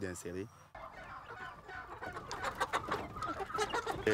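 Chickens at a farm in Benin, crossbred with imported birds, give repeated close clucks and calls in irregular bursts, with a busy background of other birds and farm noise.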